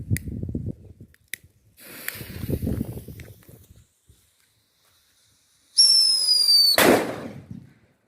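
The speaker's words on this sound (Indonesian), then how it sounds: "Kita nyalakan petasan" A Whistling Thunder firecracker shrieks with a rising whistle, then bursts in a sharp crackling bang; earlier, smaller pops and fizzing sounds come and go in quiet surroundings.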